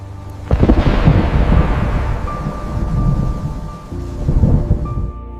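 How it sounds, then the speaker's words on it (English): Deep rolling thunder booms in suddenly and rumbles on for several seconds, loud and sustained with a broad low roar, easing slightly before a second swell, like a distant storm; no voices. "Thunder rehearses offstage."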